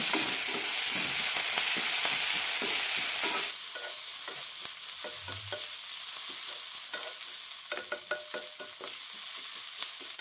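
Chopped onions sautéing in a pan for an onion curry, a steady broadband sizzle with repeated spatula stirring scrapes; the frying hiss is loud at first, then drops to a quieter sizzle punctuated by clinks of stirring.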